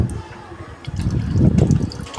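A small boy rinsing clothes in water, sloshing and splashing close by in uneven bursts that swell toward the middle, with faint voices in the background.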